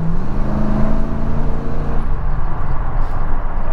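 A high-mileage Ford F-150 truck engine runs steadily after a misfire repair, a loud, continuous low rumble with a faint whirring layer and no speech over it.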